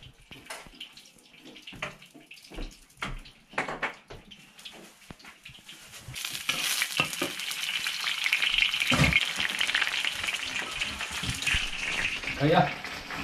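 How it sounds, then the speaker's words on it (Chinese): Chopped rice-field eel stir-fried in a wok at a rural home kitchen, a loud continuous sizzle swelling midway with scraping stirs, while people talk intermittently over it. "现在准备爆炒了"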